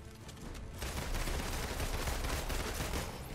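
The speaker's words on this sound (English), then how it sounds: "there's something so satisfying with like how fast you can shoot off her bullets" Rapid gunfire from a female hero's guns during Avengers video game combat, a dense continuous stream of shots after a brief quieter start, loud and sustained throughout.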